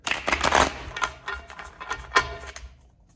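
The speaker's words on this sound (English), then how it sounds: "I'm going to give this one more shuffle, though, just to make sure we have the right cards here" Tarot cards being shuffled by hand, a quick run of papery riffles and snaps that fades into a few softer, scattered flicks, close and alone with no talk.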